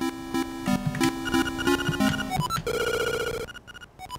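Telephone rings in Link's Awakening as a chiptune ringing pattern of repeated bell-like tones, followed by a short musical jingle, loud and clear.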